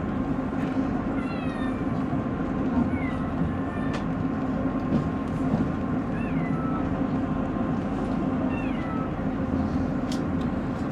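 Steady rumble of a Dales Rail train rolling near Carlisle, with repeated thin squeals from the wheels on track curves that sound like a cat meowing, recurring every few seconds.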